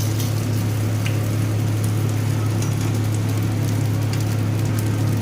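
Sago fritters deep-fry in oil over a low-medium flame, giving a steady, dense sizzle with fine crackling and a low constant hum underneath, continuous and unbroken throughout.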